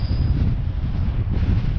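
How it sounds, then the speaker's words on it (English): A strong headwind buffets a touring cyclist's microphone on a country road near Tulsa, producing a loud, low, rumbling roar that surges and holds steadily with no voices. "This wind sucks"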